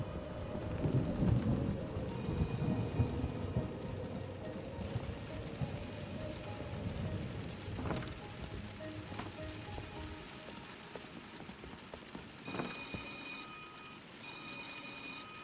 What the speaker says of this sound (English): I know the phone is ringing. I can hear the phone ringing.